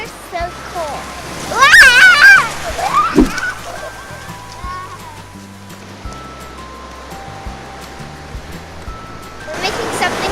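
Cold Pacific water splashes and sloshes around people wading at Big Sur, California, with lively surges of splashing and excited children's voices over the nearby surf.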